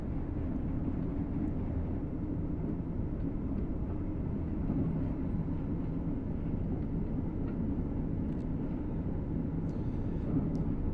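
Train Sim World 6 train, a Palomino, passing on a quiet early-morning line: a steady, continuous low rumble and rolling hum that holds at an even level throughout, with no voices.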